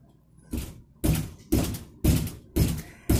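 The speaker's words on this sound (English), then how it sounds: "What are you going to do? Steadily sit there and beat the door in?" Steady, heavy blows beating on a door, six loud thumps about half a second apart in an even rhythm, close by with no talking.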